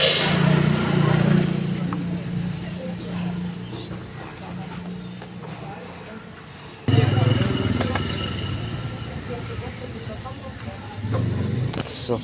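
A motorbike engine hums and rumbles steadily while riding along a road to college, surging louder midway, with voices heard over the ride.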